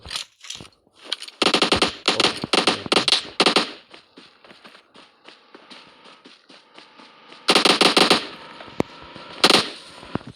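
Video game gunfire rattles in loud, rapid bursts, first a dense stretch of shots, then a pause with scattered faint pops, and later two more strong bursts close up, with no one talking.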